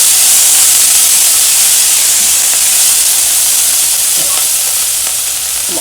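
Haitian epis cooks in a pan as the base for a smoked herring pizza, giving a loud, steady, close sizzling hiss with faint stirring ticks throughout and no talking.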